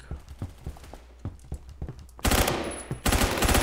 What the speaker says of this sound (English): I forgot this is a burst rifle